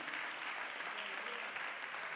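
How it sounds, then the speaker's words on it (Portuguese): Applause in a church, a dense, fairly soft spatter of many hands clapping continuously with a slightly distant, roomy quality. "vamos dar uma salva de palmas para o nosso Senhor Jesus Cristo"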